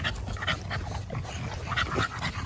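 A chocolate-coated dog pants steadily nearby with occasional high whimpers and yips, a continuous close breathy rhythm.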